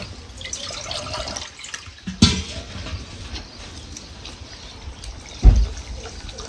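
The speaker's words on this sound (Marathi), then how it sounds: "पण थोडंसं करून पाणी घालणार" Water is poured into a cooking pot of moth bean lentils and onion, a close splashing and trickling with a couple of louder sloshes, and no talking.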